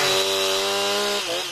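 A chainsaw carving a tree into a sculpture roars at a steady, high, whining pitch, loud and close, with the engine tone dipping briefly near the end as the blade bites into the wood.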